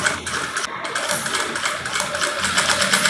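Sewing machine stitching a long gown runs at a steady, fast mechanical whir with rhythmic needle clatter, close and loud throughout, with no talk over it.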